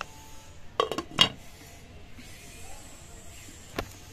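A metal lid is set onto a cooking pot of rice milk payasam, making two sharp clanks close together, then a faint clink a few seconds later over quiet kitchen background.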